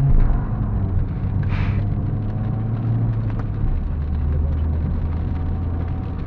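Engine of an Opel Astra G running steadily as a low, continuous hum, with rain on the car and a brief hiss partway through; no talking.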